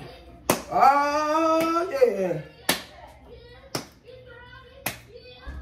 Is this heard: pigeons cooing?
no